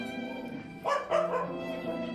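A mother dog kept in crowded, dirty kennel conditions gives two short sharp barks close by, with a constant hum of background noise around them.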